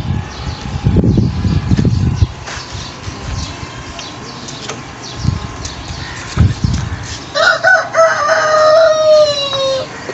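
Chickens and roosters are kept outdoors in hot weather, with scattered clucks near the start and a rooster crowing clearly toward the end, over light background noise.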